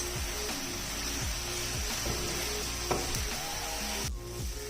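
Cut leftover roti pieces sizzle and fry in hot oil in a pan, a loud, continuous crackling hiss with brief stirring scrapes, the sizzle easing slightly near the end.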